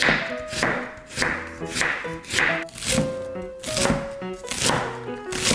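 A knife julienning 400 g of radish on a cutting board for cabbage kimchi makes rapid, close, rhythmic chopping taps in quick bursts with brief pauses between them.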